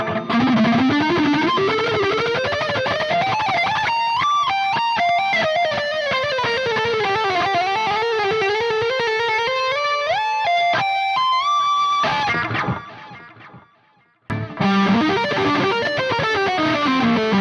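A heavily distorted electric guitar, an Ibanez RG8 through a Neural DSP SLO 100 plugin lead tone, plays bending, sliding notes, loud and sustained. It breaks off briefly near the end and then comes back.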